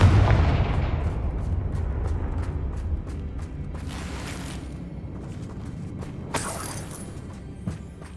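Confringo blasting spell bursting in Hogwarts Legacy, heard as a heavy low rumbling blast that decays into debris crackle, with two sharper bright bursts following later; no talk.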